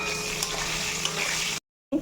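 Potato and pointed gourd pieces and fritters fry in hot oil, giving a dense, even sizzle that runs steadily, cuts out briefly, then resumes at the end.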